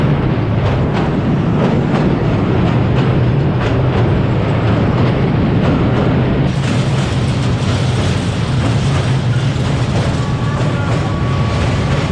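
A local train on the Santahar–Lalmonirhat line in northern Bangladesh rumbles loudly and continuously close by, with rattling wheels and clattering carriages throughout.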